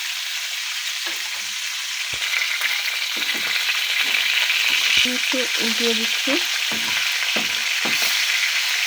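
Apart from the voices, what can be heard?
taki fish frying in a pan on low heat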